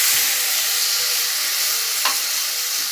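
Wine poured into a hot pan with browned pork ribs, a loud, steady sizzle and hiss as the alcohol cooks off, close and continuous with no voices.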